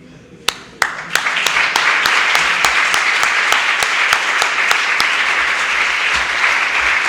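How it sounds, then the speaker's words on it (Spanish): Sustained audience applause at a cultural evening gathering of the Jornadas Cultura para el Encuentro, beginning with a few scattered claps and swelling into a steady, dense clapping that holds loud and full to the end. "Pues el aplauso tiene que ser más grande"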